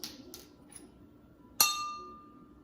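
A drinking glass holding three teaspoons of water is tapped once, giving a single bright ringing clink that decays slowly over about a second, after a few faint soft knocks.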